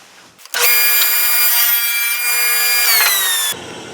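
Power saw with a clamped fence cutting a workpiece for a folding knife: a loud, steady high-pitched whine starting abruptly, holding for about three seconds with a slight pitch dip mid-cut, then stopping sharply.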